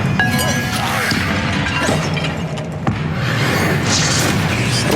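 An Incendio fire spell impact in Hogwarts Legacy, a sharp booming crash with crackling, clinking debris, followed by further hits and a second flare, loud and close amid game noise.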